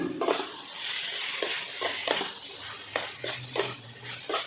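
Soybean chunks are stirred with spices in a hot pan, the spoon scraping in repeated strokes over a steady frying sizzle, close and fairly loud, with no talking.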